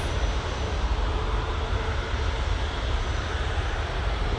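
A passenger airliner takes off from Manchester Airport bound for Tenerife, its engines a steady, loud, broadband roar that holds constant throughout with no voices.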